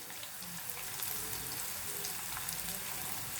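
Curry leaves and dried red chillies fry in hot oil for bisibele bath, a steady close crackling sizzle with scattered pops, no voice over it.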